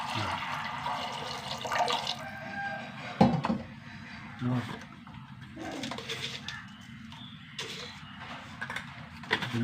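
Water gushes and splashes into a pressure cooker of lentils, while pigeons coo nearby and a voice speaks intermittently.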